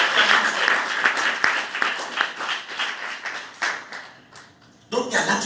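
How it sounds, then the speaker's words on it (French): A church congregation at a worship conference applauds loudly, sustained clapping mixed with cheering voices that fades gradually before a fresh loud burst at the end. "Acclame plus fort, acclame plus fort, acclame plus fort."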